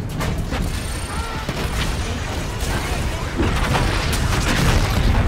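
Missile explosions in the video game Call of Duty: Infinite Warfare, a steady barrage of deep booms and crackling blasts layered with gunfire-like bursts, loud and continuous without a break.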